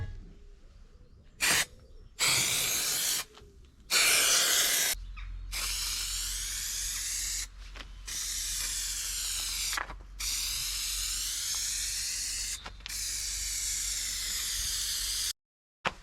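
Aerosol can spraying onto the carpet lining inside a VW Caddy Maxi camper van conversion, in several loud hissing bursts separated by short pauses, the later sprays longer and steadier.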